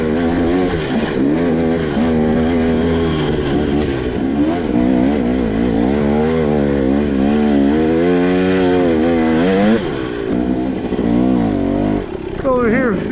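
A 2023 KTM 300XC two-stroke dirt bike engine idles and burbles at low RPM on a mat, its revs wavering up and down continuously and close to the microphone.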